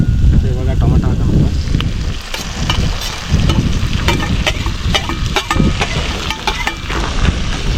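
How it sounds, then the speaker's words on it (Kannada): Tomatoes frying in a pan on a camp stove at a campsite in Koppal, a steady sizzle with occasional stirring scrapes, heard up close under gusts of outdoor wind noise and a voice. "ಇದನ್ನು ಸ್ವಲ್ಪ ಫ್ರೈ ಆಗ್ಲಿಕ್ಕೆ ಬಿಡೋಣ."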